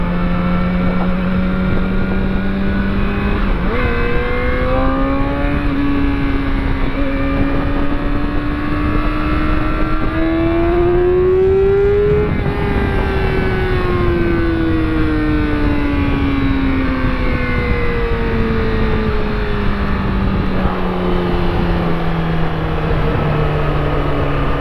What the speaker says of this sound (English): a lot of traffic here.